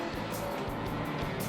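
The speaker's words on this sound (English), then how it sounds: "You hear him get back in the throttle trying to avoid these guys." A NASCAR Chevy race car engine throttles up during a crash-strewn race at Talladega, a loud continuous roar with rising revs and crowd or track noise blended in.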